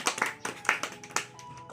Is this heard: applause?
yes